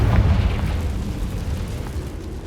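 In the Hogwarts Legacy video game, a Confringo spell goes off as a heavy booming explosion with a deep low-end burst at the start that rolls on and slowly fades over a couple of seconds.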